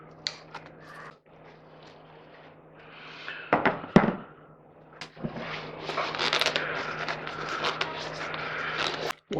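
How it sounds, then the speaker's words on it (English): A Proform oil filter cutter bites into a metal oil filter casing, giving close scraping, crunching and grinding bursts that stop and start irregularly, getting busier toward the end, with a faint steady hum beneath. "Set the oil filter cutter on top, crank down the wheel, and pushes the cutter into the casing"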